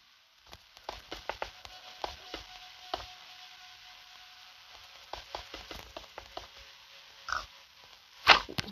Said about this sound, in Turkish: Ya domuz sen de bir çekil ya.